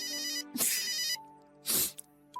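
A telephone ringing in two loud electronic bursts of ringtone, bright and warbling, with a steady tone lingering faintly between the rings and no talk over it.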